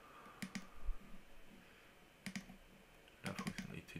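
Sharp computer clicks from working through a database application, arriving in short bursts of several quick taps with quiet gaps between them, close and fairly faint against a low room hiss.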